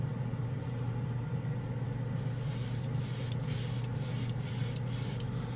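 Airbrush with a Mac valve spraying Alclad chrome paint onto a spoon, a steady, close hiss of air and paint that runs throughout, brightening after a couple of seconds and broken by brief bursts.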